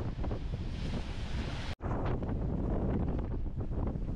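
Strong wind buffets the microphone on a rocky shore in Santa Catarina, Brazil, during fishing, a loud continuous roar mixed with surf, broken by a brief moment of silence.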